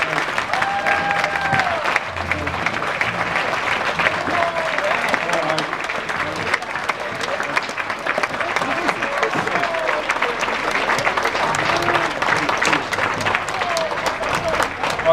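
An audience gives sustained applause at an event, a dense, steady patter of many hands clapping throughout, with faint voices mixed in beneath.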